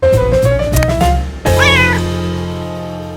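A kitten meows twice up close, a short rising cry followed by a louder, higher wavering one, with quiet room hum after.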